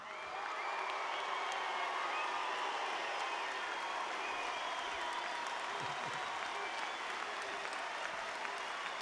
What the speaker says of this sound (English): let us give the Southeast Melbourne Magic one more round of applause.